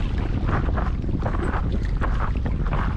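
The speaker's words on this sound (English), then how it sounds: "It's pretty windy today" Strong wind buffets the microphone with a constant loud roar and gusty rumble over a shallow lagoon at an atoll in French Polynesia, water sloshing faintly underneath.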